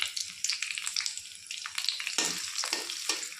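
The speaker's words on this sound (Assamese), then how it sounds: "পিঁয়াজটো অকণমান ৰঙা হোৱালৈকে ভাজি থাকিম।" Onions sizzling and crackling in hot oil in a wok with bay leaves, a bright spitting hiss with occasional stirring scrapes, close and fairly quiet.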